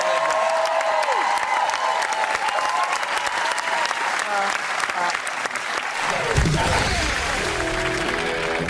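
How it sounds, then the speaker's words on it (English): A studio audience at a music quiz TV show bursts into loud, sustained clapping with scattered cheers, and a voice speaks over the applause. "would you please give a round of applause?"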